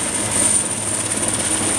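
A transport helicopter passes during the Danish Airshow 2012, giving a steady, loud turbine roar with a thin high whine and a faint rotor throb. No voices are heard.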